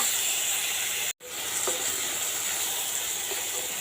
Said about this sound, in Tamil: நல்லா மிக்ஸ் பண்ணிக்கலாங்க. இது ஒரு 2 நிமிஷம் வதங்கட்டுங்க.